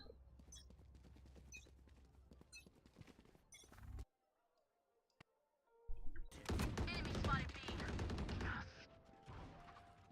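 Gunfire in Valorant, with shots and game noise up front, a near-silent gap, then a loud dense barrage of firing with crashing sounds.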